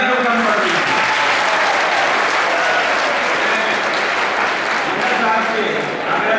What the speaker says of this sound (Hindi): हमारी तालियां क्यों कम पड़ रही हैं।